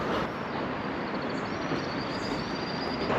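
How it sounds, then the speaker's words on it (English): Soviet-era sleeper train standing at a station platform in Kyrgyzstan, a steady broadband rumble and hiss of idling rail cars with a faint high whine running through the whole stretch, no talk. "The train is here, but it seems like most people aren't getting on yet."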